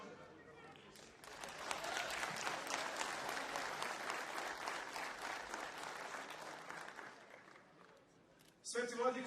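Crowd at a Serbian nationalist political rally applauding and cheering, a dense sustained roar of clapping and shouts that swells after a second and holds steady, then fades near the end before a fresh burst.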